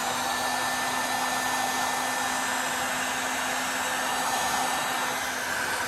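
A heat gun runs continuously while heating vinyl wrap on a door handle, giving a steady, close, blowing whir with a constant hum and no breaks or voices.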